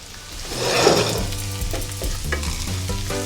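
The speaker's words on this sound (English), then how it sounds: "a tasty fry-up of the bacon with a sliced onion and a couple of boiled potatoes" Bacon frying with sliced onion and boiled potatoes, a loud close sizzle with a burst of spatter and a series of scraping stirs against the pan, no voices.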